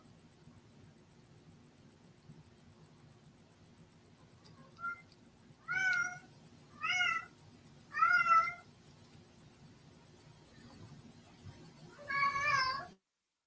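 A pet cat meows five times at a close distance, with clear drawn-out cries spaced about a second apart over a faint background hiss, with no talking.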